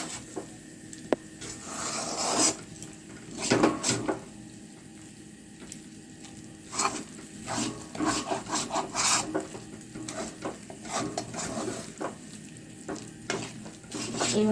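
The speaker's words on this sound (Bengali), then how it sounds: "এইভাবে পুরো 2-3 মিনিট ধরে অল্প আঁচে নাড়াচাড়া করে যেতে হবে" A potol, jhinge and moong dal mixture is stirred in a pan over low heat, with steady scraping and rubbing strokes in irregular bursts over a soft sizzle, close and moderately quiet.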